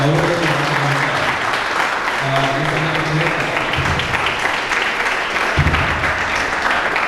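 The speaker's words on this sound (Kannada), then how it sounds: "ಎಲ್ಲ ಕಾಲೇಜಿನ ವಿದ್ಯಾರ್ಥಿಗಳು ಒಂದ್ಸಲ ಜೋರಾದ ಚಪ್ಪಾಳೆ ಮೂಲಕವಾಗಿ ಅವರನ್ನು" A college audience gives loud, sustained applause welcoming former students, doctors reunited after twenty years: dense clapping fills the room, with a brief murmur of voices at the start.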